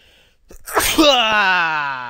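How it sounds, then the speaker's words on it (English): One loud, close sneeze: a sharp sudden burst trailing into a drawn-out voiced tail, with no talking around it. "Oh, I'm gonna sneeze."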